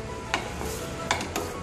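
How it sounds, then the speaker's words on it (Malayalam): Pineapple pieces and a tablespoon of sugar sautéing in a pan, a steady soft sizzle with a few scraping stirs of a spoon against the pan, close and fairly quiet. "ഇനി ഇതേ പാനിൽ തന്നെ ഈ നുറുക്കി വെച്ചിരിക്കുന്ന പൈനാപ്പിൾ ഇട്ടിട്ട് ഒരു ടേബിൾ സ്പൂൺ പഞ്ചസാര കൂടി ചേർത്തിട്ട് ഒന്ന് വഴറ്റി എടുക്കുക"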